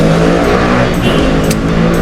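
Motor vehicles passing close by, a loud continuous engine drone with rising and falling revs and brief swells as each one goes past.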